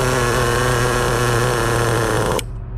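A Traxxas Rustler 2.5 nitro RC car engine idles a little low during break-in, a loud buzzy high-pitched drone up close that stops abruptly just before the end.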